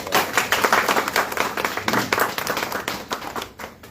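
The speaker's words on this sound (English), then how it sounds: "Big round of applause" A crowd at a book launch gives a round of applause, close and loud, with distinct individual claps standing out in an uneven, lively rhythm that thins toward the end.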